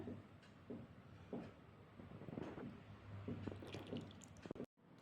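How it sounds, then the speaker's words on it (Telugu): Warm melted ghee poured into a sweet urad dal flour mixture for minapa sunnundalu, heard as soft, faint wet squishing and dripping with gentle mixing sounds, close and quiet. "కాచిన నెయ్యిని అయితే ఇందులో యాడ్ చేసేసుకుందామండి"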